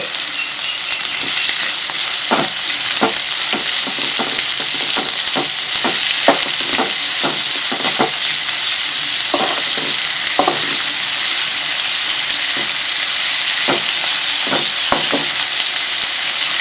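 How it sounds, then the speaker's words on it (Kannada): Onions fry in a pan over fairly high heat with salt, giving a constant close sizzle broken by repeated scraping clicks of a spoon as they are stirred until brown. No voices. "ಬ್ರೌನ್ ಕಲರ್ ಬರೋ ತನಕ ಈ ಈರುಳ್ಳಿಯನ್ನು ಕಲಸಿದ ನಂತರ"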